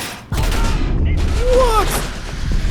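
Rapid gunfire bursts from Cyberpunk 2077 combat, loud and close, crackling over game sounds with talk mixed in.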